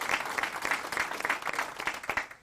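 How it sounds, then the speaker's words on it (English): Faint applause from a modest audience at a public forum on rock mining, with individual claps pulsing in a quick, fairly regular rhythm for a couple of seconds. "I think that deserves a bit of a round of applause."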